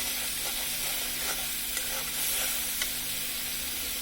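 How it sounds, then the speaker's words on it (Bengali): Spice paste fries in a pan for a vegetable-stem curry with dried fish, a close, steady sizzle with soft scraping stirs. "এখন মশলাটাকে আমরা ভালোভাবে কষিয়ে নিচ্ছি।"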